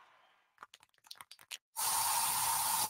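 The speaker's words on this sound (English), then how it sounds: "So you just used bug spray in your home." Aerosol can of bug spray used indoors: a few quick clicks and taps, then a loud, steady hiss of spray held for about a second, close to the microphone.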